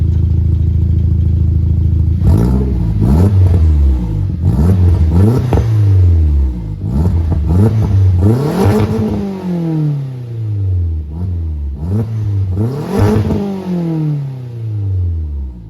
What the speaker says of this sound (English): And now I'm going to give you guys a revs of it standing still right here.